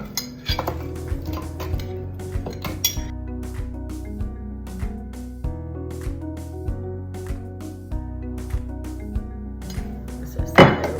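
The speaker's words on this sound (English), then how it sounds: "This is the blender. I'm gonna just add some of this blueberry." Blueberries and other fruit dropped into a blender jar, giving a string of light clinks and taps at irregular intervals against a quiet background, with a louder knock at the end.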